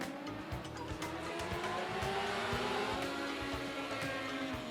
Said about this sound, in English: Your Dwarf Car Racing Series at Texas. Green flag.